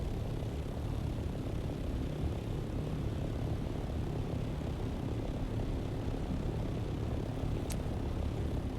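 A slow flying vehicle in Dune Awakening, its thrusters swapped out for storage, drones steadily with a continuous low engine hum and whirring rotor-like noise throughout, with no talking.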